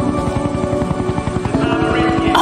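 A helicopter's rotor thumps steadily in a fast, regular beat with a droning engine whine, loud and close, from a movie scene, with people talking faintly underneath.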